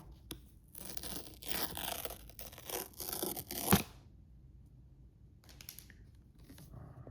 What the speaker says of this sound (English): get an ASMR tear for y'all